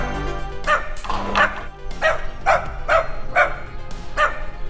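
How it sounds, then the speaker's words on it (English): A dog barks furiously at a chapel altar in a rapid, regular series of about seven sharp, loud barks, close to the listener. "ran straight to the altar and began barking furiously"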